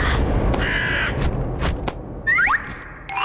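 A crow caws several times in short, harsh bursts, fairly close and loud, with a few thinner chirping sweeps near the end over a low background rumble.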